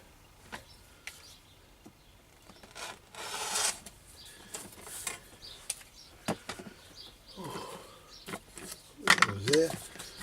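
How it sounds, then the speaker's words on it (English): Leather edges on a flint and steel pouch are rubbed and burnished in soft, uneven bursts of friction at close range. The quiet scraping comes in irregular strokes, and faint background sounds are also present. "I'm going to be staining it and burnishing the edges off"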